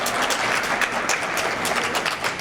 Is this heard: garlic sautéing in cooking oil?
no